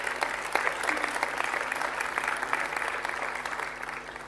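Steady applause from a crowd at a mayor's New Year ceremony, dense clapping that carries evenly from start to finish without a pause.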